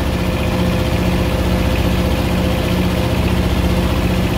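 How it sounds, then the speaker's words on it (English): A Tripac APU on a truck runs as its air-conditioning compressor is started with no refrigerant in the system: a loud, steady, close engine drone with a fixed low hum and no pauses. "Let's see if this compressor's gonna kick in for us."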